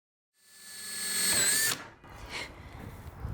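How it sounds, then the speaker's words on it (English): A power drill fitted in a concealed hinge jig bores cup holes for cabinet hinges on a cardboard-box work surface, whining up to speed over about a second before cutting off, followed by lighter rattling and handling noise. "I used a Craig concealed hinge jig to drill cup holes for the concealed hinges"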